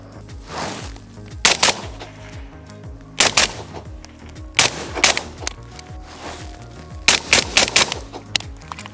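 Rifle fire from a rifle fitted with a Vectronix COTI clip-on thermal imager, sharp loud shots in quick bursts of two to four, repeated across the stretch with echoing tails between volleys.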